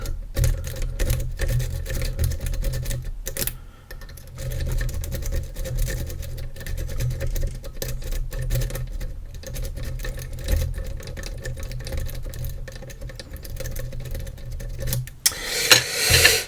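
A Majestic High Teck wiggler rake worked through a pin tumbler lock, making a rapid, continuous rattling buzz up close with a brief pause partway through, and no speech.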